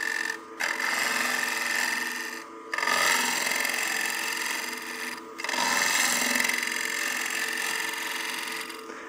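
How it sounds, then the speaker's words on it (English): Peel cut on a lathe truing the face of a wood-turned succulent planter, a continuous close scraping hiss of the tool on spinning wood, with brief pauses as the tool lifts away. "We'll be using basically a peel cut here just to true up the face."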